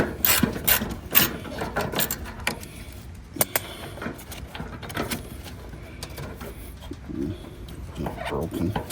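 A ratchet works a 10mm bolt on the headlight bracket of a Honda Accord, giving repeated bursts of quick, close clicking with short pauses between strokes. Faint bird calls sound in the background.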